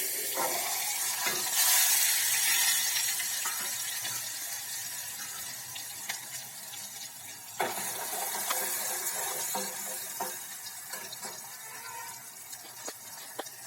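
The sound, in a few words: chopped tomatoes and chillies added to hot oil with asafoetida, sizzling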